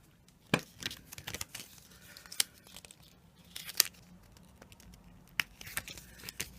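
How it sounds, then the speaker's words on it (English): Plastic wrapping being torn and crinkled off a trading card booster pack close by, quiet scattered tearing and crackling with a few sharper rips and no talk. "just get this packaging off."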